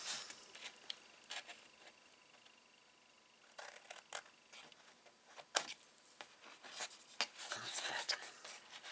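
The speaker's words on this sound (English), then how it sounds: "Perhaps I should use my smaller scissors for this smaller job." Short snipping and scraping sounds of small scissors cutting through stiff card, irregular and close, with light handling noise between cuts.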